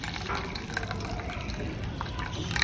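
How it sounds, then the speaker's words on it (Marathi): Cooking water is poured off a pot of boiled horse gram (kulith) in a home kitchen, a steady close splashing trickle that runs throughout. "उसळ तर ड्राय असते, तर आपण हे पाणी असं थोडंसं काढून घ्यायचंय."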